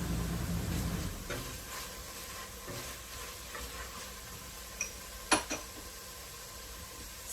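Sun-dried tomatoes sizzle softly in a pan with spinach for a vegan quiche, a steady faint hiss broken by a few sharp clacks and stirring sounds.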